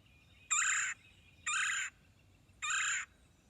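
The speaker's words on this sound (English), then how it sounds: "This is what the red-bellied woodpecker sounds like." Red-bellied woodpecker calls, three loud rolling churrs evenly spaced and clear against a quiet background.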